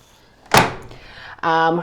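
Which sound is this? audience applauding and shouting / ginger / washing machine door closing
washing machine door closing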